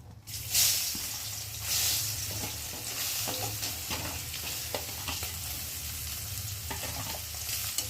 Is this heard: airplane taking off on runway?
no